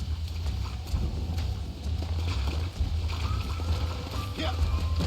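Horse hooves in the Red Dead Redemption 2 game, a soft irregular clip-clop at moderate distance over low rumbling background, with a voice speaking intermittently.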